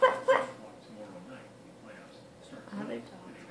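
A person's voice imitates a little dog barking, with two quick high yips at the start followed by softer, quieter vocal sounds.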